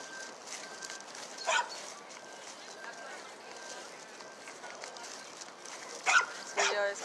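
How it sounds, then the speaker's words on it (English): A dog tied to a tree barks outdoors, a few sharp barks in short bursts near the start and again near the end, with a person talking over the steady background. "That dog been barking since I came this way."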